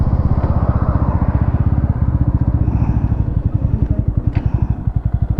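A Bajaj Pulsar NS160 motorcycle arriving at the finish of a drag race, its engine thumping in a fast steady pulse, loud and close throughout.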